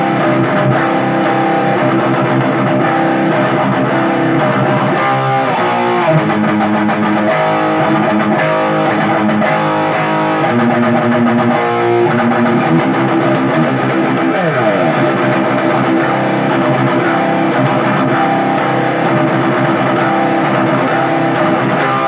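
A riff played slowly on a palm-muted electric guitar, a dense, continuous distorted chug with shifting notes and a slide, loud and steady throughout with no talking.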